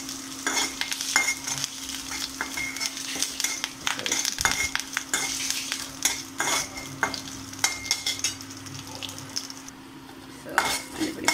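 Rice being mixed with dal and turmeric for lemon rice, a spoon scraping and stirring against a bowl or pot in steady, close clatters and taps, with no voices.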